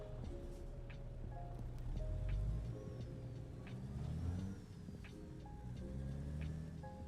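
A truck engine in American Truck Simulator pulls away after the handbrake is released, a heavy steady rumble that swells and eases through a few gear changes, close and alone without voices.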